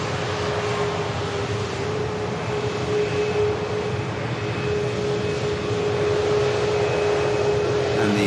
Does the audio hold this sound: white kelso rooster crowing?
no